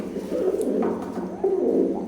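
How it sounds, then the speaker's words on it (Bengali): Cooing from a newly adult pair of Oman bloodline teddy pigeons, a steady low throaty coo that swells and repeats over about two seconds, close and fairly loud with no talk. "এখন স্ক্রিনে যে পেয়ারটা দেখতে পাচ্ছেন ওমান ব্লাড লাইনের নিউ অ্যাডাল্ট একটা পেয়ার কবুতরের"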